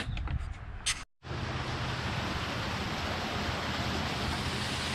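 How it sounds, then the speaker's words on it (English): Heavy rainwater pours and runs off a roof, a dense, steady rushing wash that continues without a break after a brief cut, close and fairly loud, with no talk. "we've got rain galore. Look at this water."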